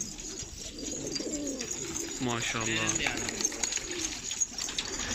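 Elvan pigeons in a loft in Adana coo in soft, rolling bursts close by, with a clear run of cooing in the middle, while someone talks over the birds.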